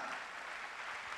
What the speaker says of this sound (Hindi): दादा, पार्था के लिए जोरदार तालियां एक बार।